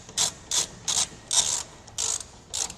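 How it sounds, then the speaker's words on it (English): A ratchet with a T30 bit drives taillight screws back into a 2013 Toyota Tundra, giving six short, crisp clicking bursts in an even rhythm, close and clear with no talk. "We'll get the screws back in. I'm going to start this one just a little bit and get the other one in before we tighten it down."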